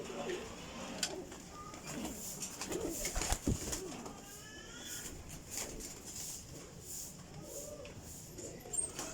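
Female Teddy bateri pigeons from a breeder coo softly in low, repeated rolling calls, fairly quiet against faint background noise and a distant voice.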